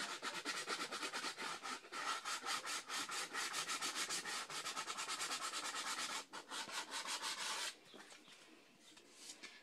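Steady, close hand sanding on the glued edges and corners of an altered picture frame, a dense rhythmic rasping of quick strokes that lasts most of the time and then drops to softer, lighter rubbing near the end.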